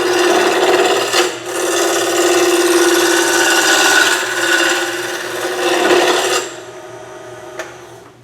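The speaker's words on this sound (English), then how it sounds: "Now this is a bevel rubbing cut." A bowl gouge making a bevel-rubbing cut on wood spinning on a lathe, producing a loud, continuous close rasping hiss that swells and eases with each pass for several seconds before dropping away.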